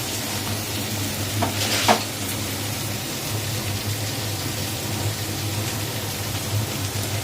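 Ground tomato, onion, ginger and garlic paste goes into a pan of frying prawns, giving a steady close sizzle with a brief splattering burst early on.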